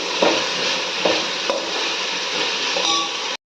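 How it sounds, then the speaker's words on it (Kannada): Onion and tomato frying in a pan with garlic, ginger and green chilli paste for fish sambar, giving a constant sizzle with a few soft stirring scrapes, close and moderately loud with no voices, then cutting off abruptly. "ಆನಿಯನ್, ಟೊಮೆಟೊ ಹಸಿ ವಾಸನೆ ಹೋಗೋವರೆಗೂ ಫ್ರೈ ಮಾಡ್ಕೋಬೇಕು"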